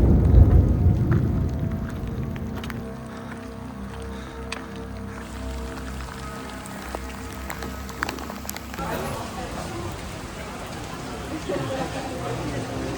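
Heavy rain and hail beat steadily on surfaces during a thunderstorm at a mountain ultra-trail aid station, a dense continuous patter with voices faintly mixed in.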